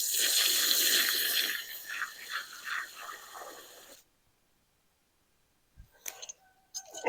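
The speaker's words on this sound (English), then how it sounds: "fill these holes up with water." Water pours steadily into holes dug in garden soil while tomatoes and peppers are planted, a loud, continuous splashing gush for about four seconds, then silence and a few faint clinks.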